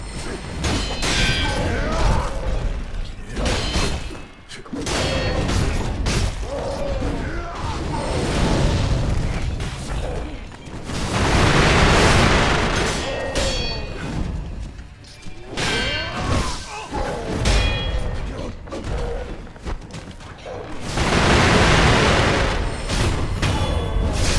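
Firecrackers burst in the video game Sekiro amid a busy fight, with repeated loud booms, pops and crashing thuds in clusters over a continuous dense mix of combat sounds.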